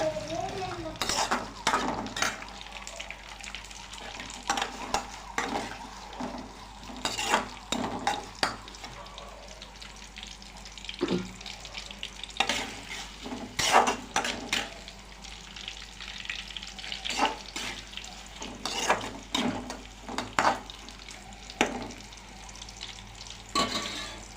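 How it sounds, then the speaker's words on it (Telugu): Sliced onions fry and soften in a pan for Telangana-style chicken curry, a steady sizzle running throughout with frequent clinking spoon strokes and stirring scrapes against the metal, close and fairly loud. "చూడండి ఫ్రెండ్స్ ఉల్లిగడ్డలు ఎలా మగ్గుతున్నాయో"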